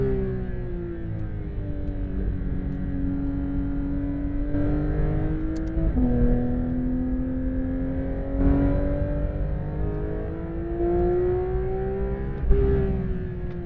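Porsche 911 GT3 RS engine on a race track, a loud sustained howl that climbs steadily in pitch through each gear, with two sharp drops at the shifts and no talking.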